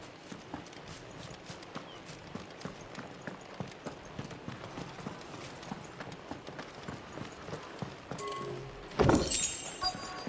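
Chocobo footsteps from Final Fantasy XVI, a steady run of light clip-clop hoofbeats over a busy game ambience, ending in a louder burst of activity near the close.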